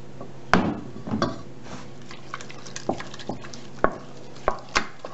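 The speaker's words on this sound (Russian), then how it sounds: "И тоже размешиваем хорошо до однородной консистенции." A spoon works choux pastry dough after an egg is added, giving soft irregular wet slaps and scrapes against the bowl at close range and low level, with no voices.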